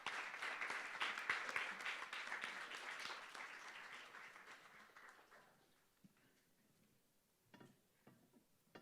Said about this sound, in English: Can we have another round of applause for Uday ji, for Irom and for Karuna?